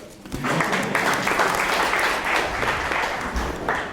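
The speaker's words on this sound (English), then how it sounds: "We applaud, sir" A lecture audience in a topology and geometry class breaks into applause after a Möbius strip demonstration, clapping that swells quickly and carries on at a lively, fairly close level before starting to taper.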